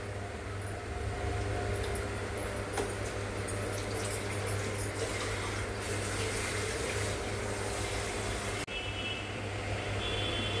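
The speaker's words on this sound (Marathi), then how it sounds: "पाणी टाकून घेतलं मी." Water runs and splashes continuously into a pot, a steady close gush with a faint hum beneath and a brief knock near the end.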